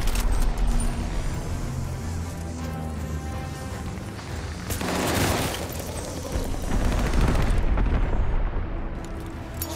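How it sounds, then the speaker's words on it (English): A bombing run in Call of Duty: Vanguard multiplayer unleashes a series of heavy explosions, deep rumbling booms swelling and overlapping amid scattered gunfire, with a large blast surge midway and continuing battle din. "Allies called a bombing run."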